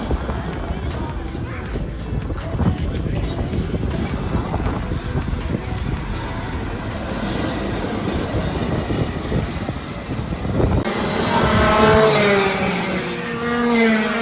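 Racing karts roar through a regional race-day heat, a dense continuous engine drone with rising revs near the end, while people talk over the noise.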